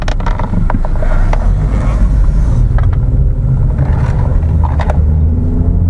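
A salvage car bought at auto auction, driven with no mechanical faults, gives a steady low interior engine and road rumble that stays loud and constant throughout, with occasional faint clicks and no talking.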